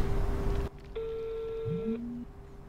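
A phone ringing tone on an outgoing call, a single steady electronic tone following a brief burst of noise, with a short faint sliding sound near the end and no talking.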